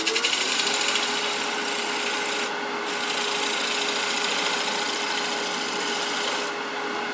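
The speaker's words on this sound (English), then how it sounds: "I'm back with the scraper to clean it up." A scraper cleaning up a wooden spatula pot spinning on a lathe gives a continuous, fairly quiet rasping hiss with a steady motor hum beneath, briefly easing twice, without any voices.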